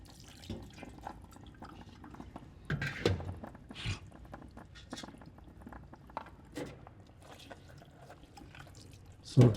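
Water is decanted from a soil sample during wet sieving, giving faint, irregular splashes and drips with a few louder pours, close and quiet, no voices.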